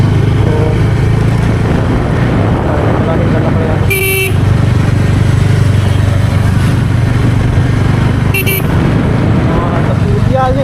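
A motorcycle ride through traffic on the way to a bikers' meetup in Jashpur gives a constant loud engine and road rumble. Two sharp horn toots cut through, and voices sit faintly underneath.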